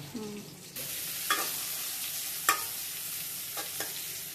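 Spices, including a five-spice tempering, frying in a pan while being stirred, a bright sizzle that swells after a brief voice at the start, with a few sharp scrapes of a utensil against the pan.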